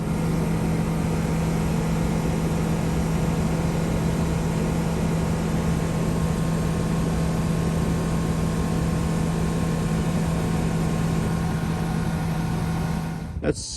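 A light aircraft's Viking 130 engine cruising at medium power around 125 mph, a steady, droning hum with a strong low tone running continuously and evenly, loud and close, cutting off abruptly at the very end.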